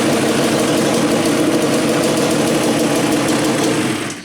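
A Yamaha Banshee ATV engine, just restarted after pilot and main jetting changes, holds a steady, loud idle right at the microphone, a constant buzzing drone that only eases off at the very end.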